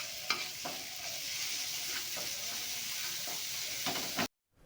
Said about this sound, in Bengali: দিয়ে আবারও ভালো করে ভাজতে আরম্ভ করলাম